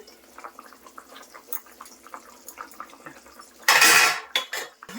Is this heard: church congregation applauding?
no